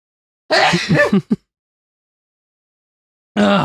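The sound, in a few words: sneeze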